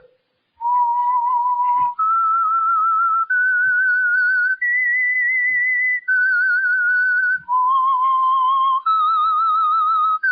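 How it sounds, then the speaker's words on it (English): The whistled theme signal of The Whistler, the 1947 Signal Oil radio program, is a clear, loud solo whistled melody of sustained, slightly wavering notes stepping up and down across several phrases with short breaths between them. "That whistle is your signal for the Signal Oil Program"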